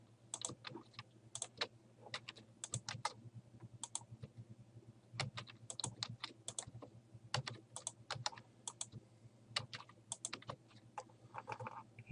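A computer keyboard is typed on steadily at close range while addresses are geocoded in ArcGIS, with irregular bursts of crisp key clicks, including cut and paste shortcuts, over a low hum.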